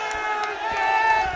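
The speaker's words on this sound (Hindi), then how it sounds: "आप ताली बजा करके स्वागत" A crowd at a farmers' rally in Mathura cheers and shouts in a brief, dense burst of voices.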